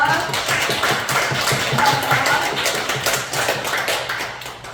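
Congregation applauding during a church Sunday service, dense continuous clapping from many hands at moderate loudness, with a slight fade toward the end.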